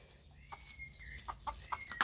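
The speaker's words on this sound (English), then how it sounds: "You are dumb, chicken." A chicken clucks in a run of short, rising clucks that grow louder and quicker toward the end, heard close over a low background hum with no talk.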